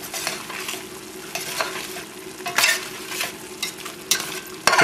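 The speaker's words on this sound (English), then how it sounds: "Just sprinkle a little over it, not much, and then stir it" A spoon stirs Wondra flour into a chicken breast and mushroom sauce in a hot pan, with steady soft sizzling beneath repeated close scraping strokes that grow sharper toward the end.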